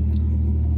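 A noisy ice cream truck engine idles with a steady, loud low rumble, a constant drone without speech.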